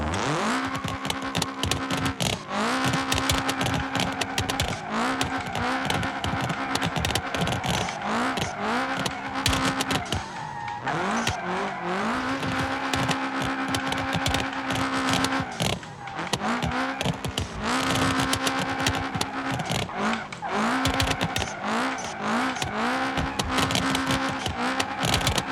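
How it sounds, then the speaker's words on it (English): A car drifts around a track in BeamNG.drive, engine droning and revving continuously at high volume while tires squeal through long slides, with brief dips as it shifts through turns, no talk. "So let's start drifting and let's see how the track goes."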